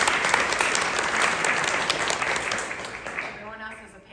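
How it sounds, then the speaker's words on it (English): Audience applause at a literary awards ceremony and poetry reading, a steady dense crowd of clapping hands that holds for about three seconds and then thins out and fades toward the end. "clap it up for Grateful Sue"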